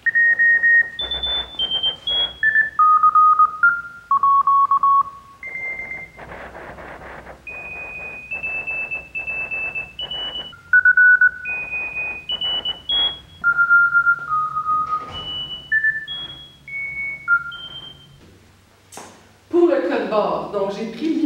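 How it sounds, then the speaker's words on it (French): Morse code rhythm played by MIDI oscillators with pitches set by ASCII codes, a series of clean electronic tones in short and long beeps at shifting pitches, ending with a burst of noisier synthetic sound. "ça me donne du code Morse qui a gardé la rythmique du code Morse, puis qui va avoir pour les hauteurs, pour les notes qui sont jouées, ça va être le code ASCII"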